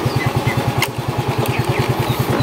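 A motorcycle with a fault that makes it roll forward without throttle idles nearby with a steady, rapid putter at low revs, continuous and fairly loud with no talking.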